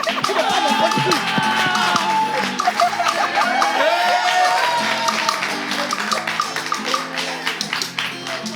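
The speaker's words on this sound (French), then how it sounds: "Nous allons accompagner également nos jokers avec les acclamations du public." A studio audience cheers and shouts for contestants in a lively, fluctuating roar with whoops and scattered clapping, loud and sustained throughout.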